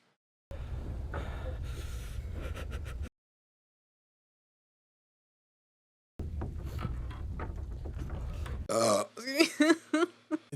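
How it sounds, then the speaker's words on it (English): Someone burps several times out of fear during a horror film reaction, with short bursts and a longer run of belches after a silent gap, mixed with other vocal sounds. "They're fear burps."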